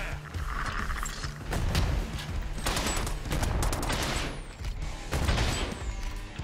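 Gunfire in the game Predator: Hunting Grounds, a dense fusillade of rapid automatic shots in repeated loud bursts with heavy low thumps, close and continuous across the span.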